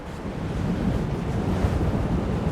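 Steady, loud wind roars across an open snowy field near York University, a constant broadband rush with gusty buffeting on the microphone and no voices.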